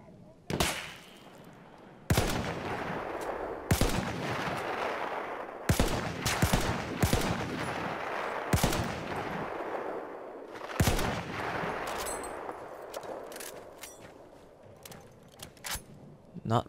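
Rifle shots in the World War I shooter Battlefield 1, several sharp, loud cracks spaced a second or two apart with reverberant tails over a low game ambience.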